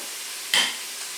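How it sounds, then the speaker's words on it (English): Pancetta sizzles in a frying pan with a constant soft hiss, and one brief, louder burst of spitting rises midway before fading back down. "I can hear the pancetta sizzling away"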